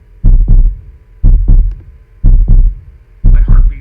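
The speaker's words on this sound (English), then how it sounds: "My heartbeat skips" Heartbeat sound effect from the Tsukihime visual novel game, a loud, deep double thump repeating four times in a steady slow rhythm, close and booming with no voices.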